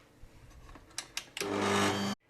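Electric mixer whisking cake batter with cocoa, baking powder and vanilla: a few light taps, then a short, close, steady motor whir lasting under a second before it stops abruptly.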